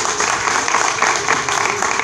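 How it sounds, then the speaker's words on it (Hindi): A crowd at an outdoor political rally in Ashok Nagar, Delhi, claps and applauds steadily in a dense, sustained wash of hand claps with no break. "जब तक प्रवेश की हमारे तब तक आप ताली बजाते रहेंगे।"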